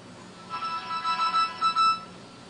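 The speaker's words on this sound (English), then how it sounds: "I'm going to show you what happens when a text message comes into the phone when the watch is attached." A phone's incoming text message alert chimes, a short melodic electronic tone of several bright notes lasting about a second and a half over quiet room hiss.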